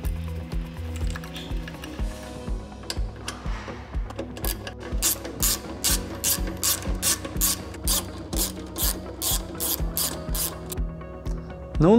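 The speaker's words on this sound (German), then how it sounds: "Jetzt montieren wir den Getriebemotor samt dem Kabel wieder mit den drei Schrauben an den PS." A ratchet tightens the three screws mounting a gear motor and its cable on a pneumatic seed drill with an electric blower, close rapid clicking bursts with metallic handling knocks between strokes, no talk.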